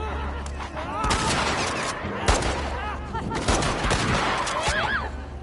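Gunfire in The Last of Us Part II arrives as sharp bursts of loud shots over a busy game soundscape of whistling, chirping effects and a low rumble.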